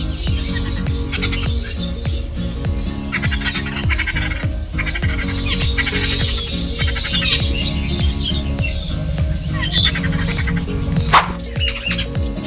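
Many jungle babbler chicks squawk and chirp insistently, a busy overlapping chorus of harsh calls close by with no talking.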